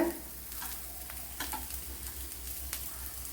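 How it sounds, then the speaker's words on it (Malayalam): Sliced bitter gourd for pickle is sautéed in a pan, giving a soft steady sizzle close by, with scattered scraping stirs of a spoon through the pieces and no talking. "ഇവിടെ പാവയ്ക്കയെല്ലാം നല്ലതുപോലെ വഴറ്റി എടുത്തിട്ടുണ്ട് ഞാൻ."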